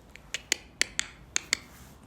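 A person makes sharp mouth clicks imitating a squirrel, about eight quick irregular clicks, close and crisp against a quiet background.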